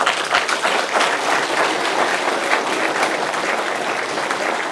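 Loud, dense applause from a crowd, a steady wash of clapping lasting several seconds without letting up.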